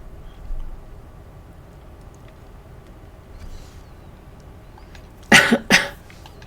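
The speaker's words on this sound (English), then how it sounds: "Namra's coughing didn't seem to calm down." Namra, a character in the game All Of Us Are Dead, coughs in two hoarse, rough bursts close together near the end, after a long stretch of quiet background.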